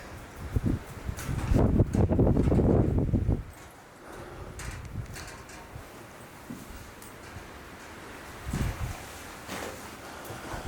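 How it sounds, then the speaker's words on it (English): Gusty wind buffets the microphone outdoors at an old farmhouse, a loud roaring blast early on, then a steadier rushing with occasional rustling and bumps. "it's going to be hell windy out here"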